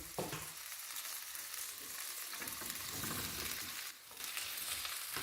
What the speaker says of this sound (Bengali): আলুটা হালকা ফ্রাই করে নিলাম। এবার এর মধ্যে আমি দিয়ে দিচ্ছি ক্যাপসিকামগুলো।